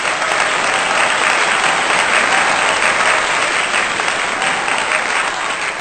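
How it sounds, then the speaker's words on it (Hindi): Loud, sustained applause from a crowd at a welfare organization's stage event, honouring a woman named Ayesha: a thick, even roar of many hands clapping without pause. "इस आयशा के लिए भरपूर तालियां।"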